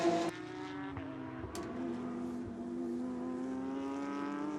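Jaap van Lagen's race car runs on the Sachsenring track during 2019 qualifying: a sharp burst at the start, then a steady, moderately distant engine drone holding one pitch and slowly rising.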